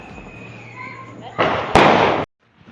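Diwali and Bandi Chhor Divas firecrackers go off nearby: a loud crackling blast, then a sharper bang with sustained hissing and sizzling for under a second, ending abruptly.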